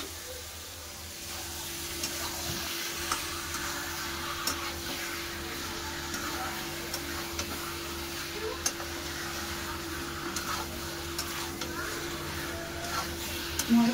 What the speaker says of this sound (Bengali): মশলার সাথে মাংসটা ভালো করে কষে নেবো।